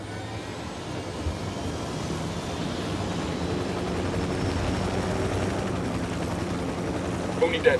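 Helicopter rotor drone from the video game Ghost Recon Wildlands, a steady low rumble holding across the whole stretch under dense ambient game noise, with a brief sharper burst near the end.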